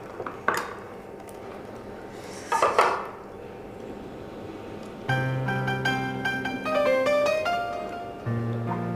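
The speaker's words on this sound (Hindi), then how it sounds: "मैं तब तक बर्तन धो लेता हूँ" Dishes, pots and utensils being washed: scattered clinks and clatters over running water, then ringing metallic tones of pans and cutlery knocking together, steady and close.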